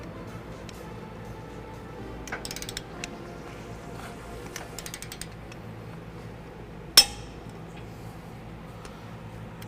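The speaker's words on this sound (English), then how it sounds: "the rear ones are going to be torqued down to 75 foot-pounds. So let's get those torqued down into place" A torque wrench is used on the rear bolts of a front-mount trailer hitch on a 2010 Dodge Ram 1500, with faint ratcheting clicks and metallic ticks followed by one sharper click.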